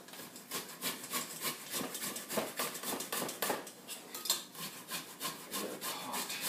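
Fresh ginger root is grated over a pot for masala chai in quick, rhythmic rasping strokes, each scrape close and distinct, repeating steadily with no voices.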